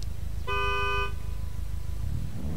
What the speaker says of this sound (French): est-ce que vous pouvez me faire écouter votre klaxon s'il vous plaît?